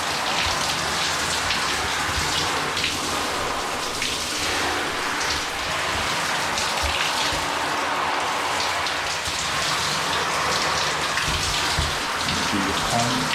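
Water running and spattering over waterproofed outdoor clothing treated with DWR, a loud, dense continuous splash like rain on a surface, close to the microphone and steady throughout.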